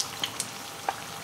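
Onion fritters fry in oil with a steady soft sizzle and a few faint pops and crackles.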